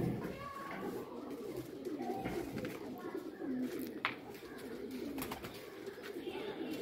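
Pigeons coo softly and repeatedly in a loft of rare breeding birds, a low rolling murmur that runs continuously throughout with occasional chirps and a faint voice in the background.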